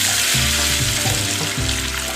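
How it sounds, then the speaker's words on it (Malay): Kuih getas dough frying in hot oil gives a loud, continuous sizzle and crackle close up, with brief bubbling surges as pieces shift in the pan; no one speaks. "sekarang ni adalah masa untuk kita menggoreng ya"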